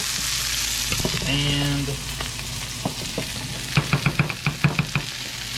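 Onions sautéing in a pan with olive oil and butter give a continuous close sizzle, broken by a run of quick sharp knocks of a utensil toward the end, with a single brief spoken word.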